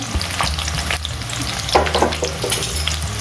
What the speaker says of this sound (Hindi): हाँ अभी तेल गर्म हो गया है, अब इसमें हम प्याज डाल दे रहे हैं।